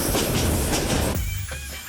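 A passenger train runs on rails in Myanmar, its steady rumbling clatter filling the scene, loud and continuous, then dropping to a lower, quieter rolling tone partway through.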